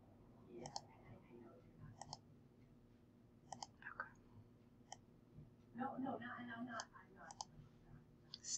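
Mouse clicks on a computer while filling in an online form, sounding as a few sharp, isolated clicks spread through the clip beside soft background noise and faint mouth sounds.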